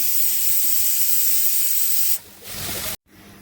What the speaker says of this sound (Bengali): এখানে শাক ভাজি হচ্ছে আর ডাল সিদ্ধ হচ্ছে।